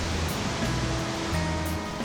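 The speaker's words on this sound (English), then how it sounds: "Jamie's first to cross the river just to see how deep it is." A four-wheel-drive vehicle fords a river, and water rushes and surges steadily and loudly throughout with no break.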